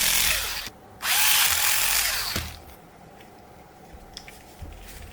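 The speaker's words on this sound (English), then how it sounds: "Now I'll use screws to secure the BMS in place." A power drill drives screws to fasten a BMS board into a homemade 20V 20Ah battery pack, with two short loud whirring bursts close up, then quieter handling and small clicks.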